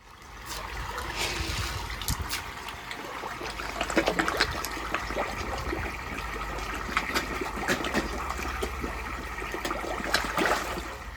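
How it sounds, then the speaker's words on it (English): Water dripping and trickling from a leaking roof, a steady patter of irregular drops and splashes over a soft running-water wash, close and without voices. "Roof still leaks though."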